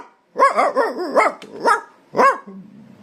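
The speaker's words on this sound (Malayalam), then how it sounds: "വേറെ ഒരു ഇനം നായ്" A dog of another breed gives a run of several quick, close barks followed by two separate louder barks after short pauses, then falls quiet.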